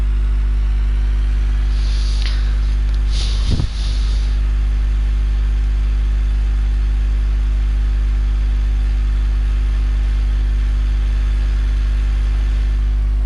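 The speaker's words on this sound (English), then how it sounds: "going up a hole with a wee tractor" A small tractor climbing a hill at about seven miles per hour, its engine a steady loud low drone throughout with a brief clunk or rattle near the start, no talking.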